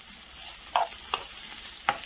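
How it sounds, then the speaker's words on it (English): Peppers sizzle in a pan with a soft, steady hiss, and three distinct scraping knocks sound as they are stirred around. "we'll just fry those, keep moving them around"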